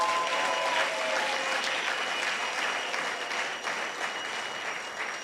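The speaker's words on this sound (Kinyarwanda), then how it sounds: "Amashyi menshi ku mwami Yesu Kristo." Sustained applause for Jesus Christ from a church congregation at a Kinyarwanda service led by an apostle, a full even roar of many clapping hands that holds steady throughout.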